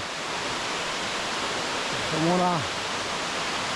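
Waterfall in Istria, Croatia, a loud steady rush of falling water that fills the whole scene, while a voice speaks briefly over it partway through.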